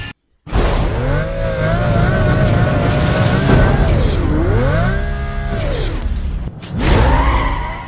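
A race car engine in Need for Speed: Most Wanted during a sprint race, loud and close, revving and shifting with rising and falling pitch, with a brief cut at the start and another dip near the end.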